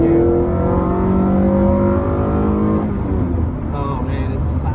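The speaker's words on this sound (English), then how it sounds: "it's just kind of this linear revving going on" A Honda Prelude Si, fourth-generation 4WS, revs in second gear toward 6,500 RPM, its engine note climbing steadily and loud from inside the cabin before easing off near the end.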